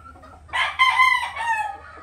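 A farm rooster lets out one loud, close crow over a quiet background with a faint low hum, as the flock is separated from the hens at feeding time.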